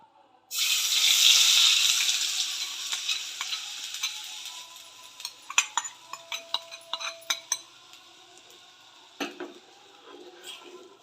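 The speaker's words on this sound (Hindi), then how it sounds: "अब मैं इसमें ये घोल डालूंगी।" Batter hits hot ghee in a small pan on a gas stove with a sudden loud sizzle that fades slowly, followed by scattered clinks and scrapes of a spoon against the pan.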